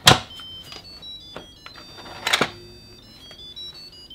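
An Instant Pot Duo pressure cooker plays a short electronic melody of bright, high beeps as it powers on, with a couple of clicks between the notes, close and fairly quiet.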